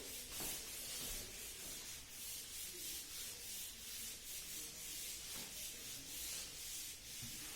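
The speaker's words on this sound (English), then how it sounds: "now I will erase it out" Eraser rubbing writing off a board during a lecture, a steady scrubbing sound with repeated back-and-forth strokes carrying on throughout, fairly close and with no talking.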